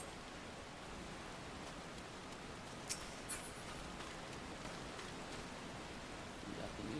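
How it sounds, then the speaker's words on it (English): Soft, steady rain hiss in the Final Fantasy XIV game world, faint and continuous, with a couple of brief sharp clicks partway through. "It's raining."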